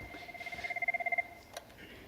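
A telephone rings in a conference hall during a security talk, one rapid trilling burst of electronic ring pulses, followed by a short click.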